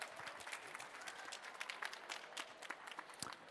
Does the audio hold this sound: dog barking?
no